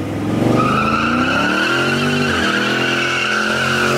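Dodge Hellcat doing a burnout, its loud engine roaring steadily as the tires squeal continuously, with a pitch dip midway, close and sustained throughout with no talking.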